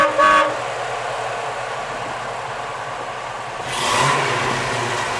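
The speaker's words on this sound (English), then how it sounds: "horn" A 1969 Yenko Nova LS2 sounds its horn in two short, loud blasts, one at the start and a longer one near the end, with a quiet idle in between.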